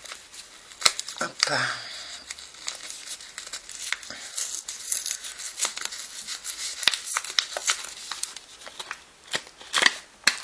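A small Hello Kitty bag is opened with close, busy crinkling and rustling of plastic and paper in quick bursts, while a voice speaks briefly over the handling.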